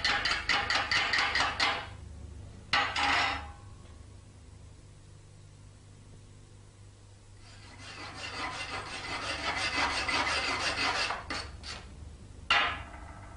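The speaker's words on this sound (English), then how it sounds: "using the chipping hammer to remove the slag left on the weld" A chipping hammer knocks slag off a stick-welded bead: short bursts of rapid, scraping metallic taps, close and fairly quiet, separated by pauses.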